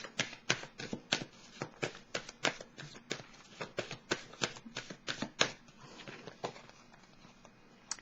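Tarot cards being shuffled, a steady run of crisp riffling snaps repeating about twice a second, close and fairly quiet, fading slightly toward the end with no speech.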